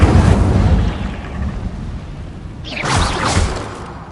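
An Incendio fire spell cast in the Hogwarts Legacy video game: a loud fiery blast and rushing roar at the start fades, then a second whooshing flare of flame rises and crackles near the end.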